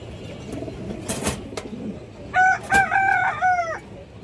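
Birds at a pigeon farm, with a big-sized pigeon among them: a few short tonal, harmonic calls in quick succession stand out over steady background noise, close and fairly loud, after some earlier rustling and knocks.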